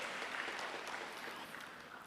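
Audience applause at a conference, a steady even wash of many hands clapping, fairly distant and sustained for the full stretch with no talk over it.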